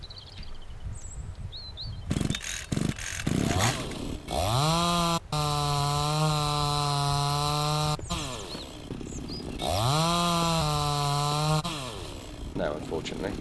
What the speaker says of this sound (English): chop it down with the chainsaw.